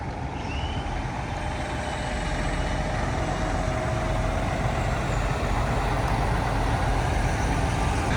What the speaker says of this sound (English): A couple trucks leaving.